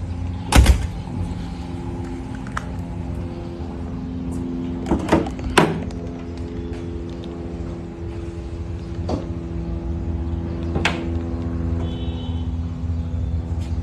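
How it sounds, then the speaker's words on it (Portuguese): Electric windows and mirrors whir on a square-body Volkswagen, with sustained motor hums broken by sharp clicks and thuds at close range under a low background rumble. "Vidros elétricos, retrovisores elétricos."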